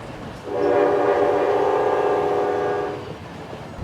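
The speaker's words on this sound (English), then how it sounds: "we have a new train called Soko, which is the fast train" A train horn at a station in Serbia, from a Soko fast train, sounds in one long, loud, steady blast with rich harmonic tones, swelling in and fading out after a few seconds.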